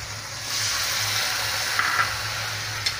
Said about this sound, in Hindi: अब इसमें हम डालेंगे एक कटोरी सादा पानी